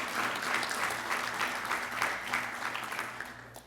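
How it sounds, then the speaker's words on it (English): Audience applause at a community forum on construction jobs and contracting, steady clapping from a crowd sustained for several seconds without a break. "Let's give Vase a big hand of applause."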